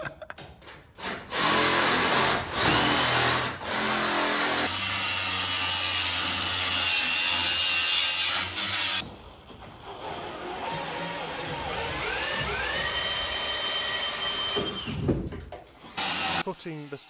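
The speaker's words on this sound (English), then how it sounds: "I ended up just giving up and putting a circular saw through." Circular saw cutting through wooden floor joists in an old coach house, loud sustained whining cuts with brief pauses between passes and the blade pitch shifting as it bites into the timber.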